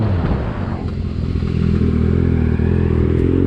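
A motorcycle on a busy road with cars, its engine droning steadily and loud throughout, with faint clatter and scraping as it moves through traffic near a Jeep.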